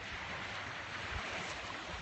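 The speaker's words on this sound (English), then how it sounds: "The waves are very loud." Loud, steady roar of waves washing ashore on the Sea of Galilee at Tiberias, broad and continuous with wind noise and no voices.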